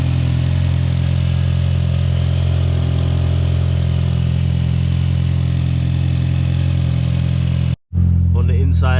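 A Volkswagen Golf GTI 1.8T engine runs at a steady, loud idle for several seconds, cuts briefly to near silence, then resumes with a quiet voice over it.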